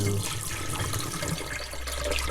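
Water drains off a batch of soaked chanterelle mushrooms in a kitchen, a steady, close rush of running liquid without pause.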